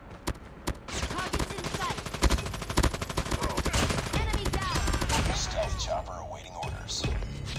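An automated sentry gun fires in a video game, a loud rapid stream of gunshots lasting several seconds with game sound effects mixed in and a voice heard briefly.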